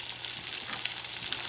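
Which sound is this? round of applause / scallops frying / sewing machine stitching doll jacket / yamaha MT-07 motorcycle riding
scallops frying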